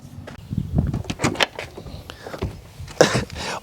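A Ferrari Roma's door handle clicks and the door unlatches and swings open, with light rattles and a sharper clunk near the end.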